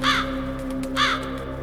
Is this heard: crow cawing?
yes